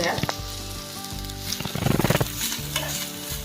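A mixture for crispy rice pakoda sizzles in a hot pan while a spoon scrapes and stirs it in quick bursts, close and fairly loud, the frying hiss continuing between strokes.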